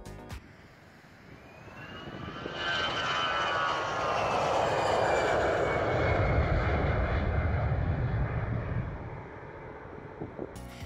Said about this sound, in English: this Airbus A319 performed a really low pass,